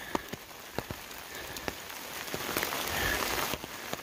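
Steady rain patters on surfaces nearby on the Appalachian Trail, with scattered louder drops tapping close by over a soft continuous hiss.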